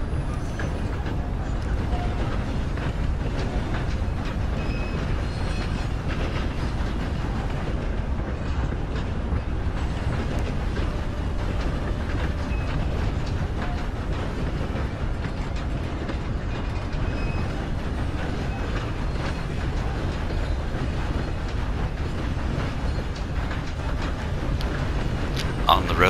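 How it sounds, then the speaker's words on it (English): A train in the video game Red Dead Online rides through a tunnel, a loud, dense rumble with rhythmic clickety-clack of wheels and a brief air-brake hiss, continuous for the whole stretch. "Let's take that train through this tunnel here."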